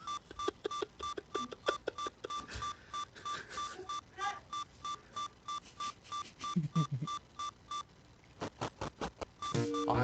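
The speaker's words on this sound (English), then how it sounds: "I apologize for the beep beep beep." Rapid repeating low-health warning beeps from the Zelda Classic game, a steady electronic beep-beep pattern running almost throughout with short gaps and a few other game blips mixed in, fairly quiet and without talk.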